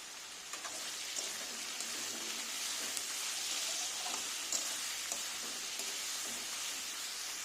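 Vegetables seasoned with turmeric cook in a kadai, giving a steady soft sizzle and faint crackle with scattered small pops, close and even throughout, no talking.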